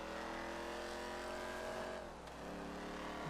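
A car driving in Grand Theft Auto 5, a steady game engine drone with tire noise and a brief dip before picking back up, fairly quiet and continuous without talk.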